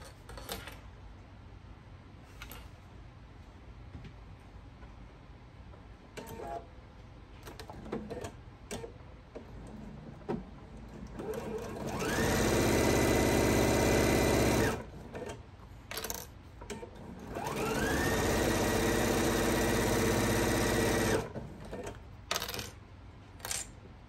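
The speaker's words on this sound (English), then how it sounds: "you're going to sew a quarter of an inch all the way across the top." A sewing machine stitching across the top of fabric for a thread catcher, running in two loud steady bursts of several seconds each, with quieter handling clicks and rustles between them.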